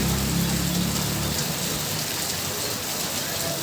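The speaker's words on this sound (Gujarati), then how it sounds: "વાવણી લાયક વરસાદ એકદમ ચાલુ થઈ ગયો છે" Steady monsoon rain, heavy enough for sowing, falls in a farming area. A constant broad patter goes on throughout, with a low rumbling hum underneath in the first second and a half.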